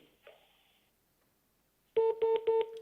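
Call sounds come over a phone line on a live television broadcast: a faint tone fades into silence, then three loud, evenly spaced buzzy pulses sound, like a ringback or busy signal.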